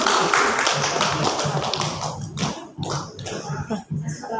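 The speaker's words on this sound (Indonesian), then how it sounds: "Tepuk tangan dulu." An audience at a health seminar breaks into clapping, strongest at first and then thinning into scattered, uneven claps that trail off over a few seconds.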